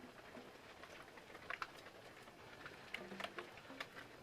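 Rain falls outdoors as a faint, steady hiss, with scattered light ticks and patters of drops landing on nearby surfaces, and no voices.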